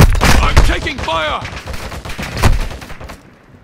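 Rapid close gunfire in Modern Warfare 2 crackles in dense overlapping bursts, loud and sharp, with a brief voice and radio-like chatter mixed in before the shots trail off.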